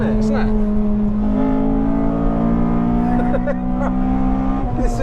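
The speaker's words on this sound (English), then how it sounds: "It's just like revving for days" A Honda FD2 Civic Type R engine revs hard and climbs through the gears, up close and loud, with steady tonal engine notes shifting pitch. Voices talk over the engine.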